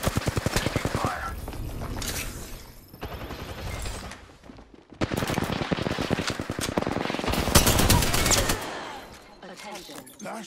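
Sustained rapid automatic gunfire in a shooter game, dense bursts with brief lulls, loud and close, with faint voices underneath.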